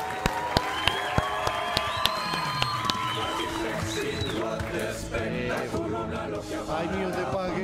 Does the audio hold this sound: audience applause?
yes